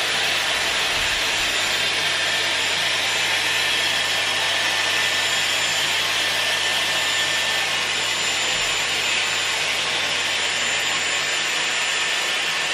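A Dyson hair styler blows air steadily over hair, making a constant, even whooshing hiss that runs the whole time without a break or any talking.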